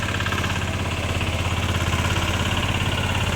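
Used Kubota KRT140 walking tractor engine running steadily at idle, a continuous close, loud single-cylinder chug with a low rhythmic throb and no talk.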